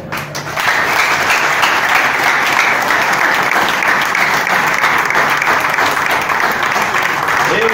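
A large audience applauds at a slam poetry event, with dense, loud hand clapping that stays steady and sustained throughout.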